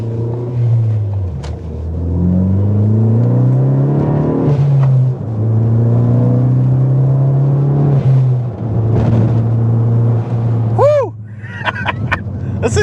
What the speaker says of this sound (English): I hope you can hear that blow-off valve every time I come off the throttle